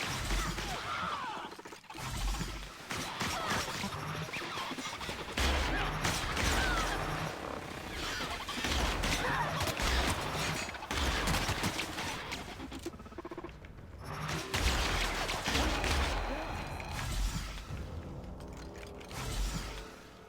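Rapid gunfire against robots in The Outer Worlds, a dense run of sharp, crackling shots and impacts with short pauses between bursts, loud and busy throughout, with a little game chatter underneath.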